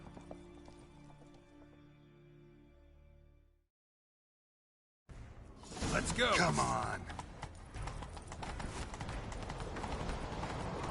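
Rhythmic hoofbeats of galloping horses in a game, loud and continuous after a brief silence, with someone shouting urgently over them.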